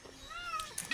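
A cat gives a single clear, rising-then-falling meow up close, followed by a few faint rustles.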